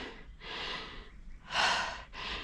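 A person breathes heavily after climbing through a cave, giving three loud, close, breathy gasps in quick succession.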